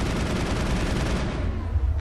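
Sustained gunfire in the Mass Effect video game, a dense, loud continuous burst of rapid shots filling the whole moment before easing slightly at the end.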